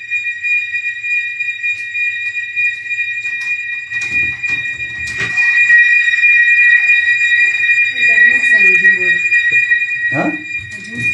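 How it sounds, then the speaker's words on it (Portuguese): A fire alarm going off inside a building gives a steady, piercing high electronic tone that runs without a break from start to finish, while a voice talks over it partway through. "Pessoal, disparou um alarme de incêndio aqui"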